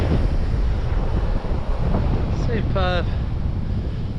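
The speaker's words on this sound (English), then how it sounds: "The wind has really got up. You might be able to hear that on the camera." Steady wind buffets the microphone on Slapton Sands beach in north-easterly winds, with surf nearby, a constant roaring rush throughout; a voice speaks briefly near the end.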